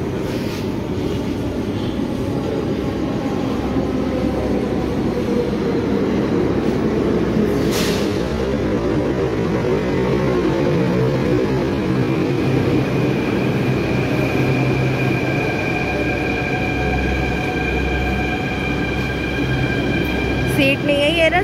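Steady rumble and rattle of a Delhi metro train in motion, continuous and fairly loud, with a rising whine near the end.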